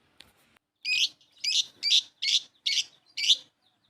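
Six short bursts of bright bird chirping, evenly spaced and fairly close, with a small faint chirp just before them and quiet between.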